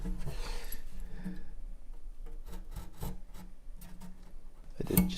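A razor blade scrapes across a guitar inlay in repeated short rubbing, rasping strokes, close and fairly quiet, with a few sharper scrapes near the end.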